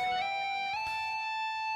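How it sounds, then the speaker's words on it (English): A sustained electric guitar note, tapped into a pre-bend, with a bright ringing tone that shifts up in pitch partway through as the tap finger releases, then holds steady and fades slowly. "Can you take your tap finger off to leave you in a pre-bend?"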